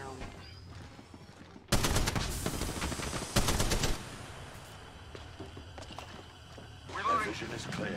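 Dense automatic gunfire rings out in the mobile video game Apex Legends Mobile, with a loud sustained burst of rapid shots, then quieter game ambience and a later softer flurry.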